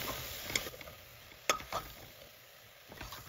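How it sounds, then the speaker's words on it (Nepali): Garam masala is stirred into a frying taro-leaf curry, a low sizzle beneath a few sharp clinks and scrapes of a utensil against the pan, spaced irregularly, fairly quiet overall. "आधा चम्चा गरम मसला राखेर मज्जाले चलाउनु होला"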